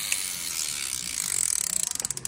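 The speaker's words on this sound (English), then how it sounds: "I hit it with this hammer piece." A hand-held hammer piece taps at a diamond bezel setting in jewelry work, a rapid run of small, sharp metallic clicks that quickens and sharpens toward the end, close and without talk.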